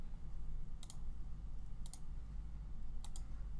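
Mouse right-clicks while digitizing satin stitches in EmbroideryStudio e4.2, heard as three quick double clicks about a second apart over steady low background hum.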